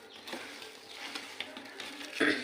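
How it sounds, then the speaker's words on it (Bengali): Mango pieces tossed and mixed by hand with sugar, salt and vinegar for a mango pickle, giving soft wet stirring and patting sounds at close range, steady and fairly quiet with a slightly louder squelch near the end. "এই যে আমি চিনি, লবণ আর এই ভিনেগারটা দিয়ে মাখাচ্ছি"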